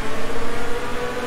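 A V8 race car engine roars loudly in the Project Cars VR video game, a sustained, steady drone that pulses slightly as it holds high revs, with no talk over it.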